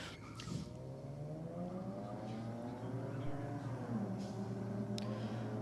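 A Honda Civic launches at a drag race, its engine note climbing and shifting as it pulls away, heard faint and at a distance over crowd and ambient noise.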